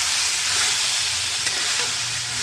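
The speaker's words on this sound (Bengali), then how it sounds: "দেখো, আমার কিছুটা চিকেন ভাজা ভাজা হয়ে গিয়েছে। এইবারে আমি এর মধ্যে টমেটো মিশিয়ে দিলাম।" Chicken pieces and tomatoes fry in a hot pan, a steady broadband sizzle with soft stirring scrapes and a few light clicks, close and continuous without any voices.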